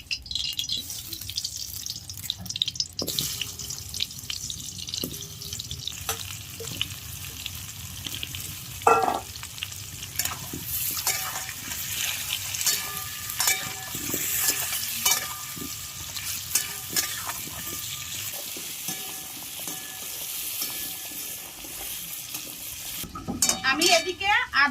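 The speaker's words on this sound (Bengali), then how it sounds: "তো আমি প্রথমে আলুগুলো ভেজে নেব" Potatoes fry in a pan, a steady crackling sizzle with intermittent clinks of utensils and pan knocks over a long stretch, some faint water or background noise and brief murmurs of voices.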